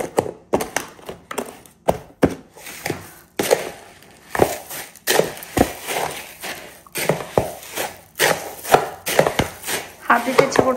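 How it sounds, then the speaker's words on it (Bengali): A spoon works food around in a bowl, mixing a snack with chanachur in a run of repeated quick taps and scrapes. The sounds are fairly loud and close, with no talking. "হাত দিতে ইচ্ছে করছে না, এই জন্য চামচ দিয়ে মাখাচ্ছি।"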